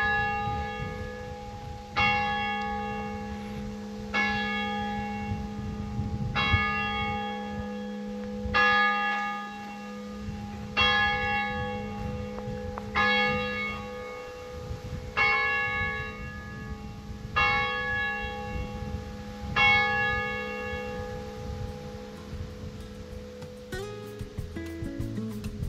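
Church bell tolling eleven o'clock in a village on the Causse de Gramat, eleven evenly spaced strokes with a long resonant ring, heard from moderate distance over steady outdoor background hum, no talking.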